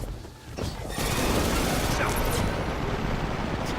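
Rapid, sustained automatic fire from the Recluse gun in a video game, a dense, loud stream of shots that starts about a second in and keeps going without a break.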